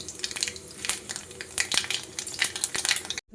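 Nigella seeds frying in hot mustard oil after lentil badi were fried, a steady close sizzle with crackling pops and a few sharp utensil clicks, no talking.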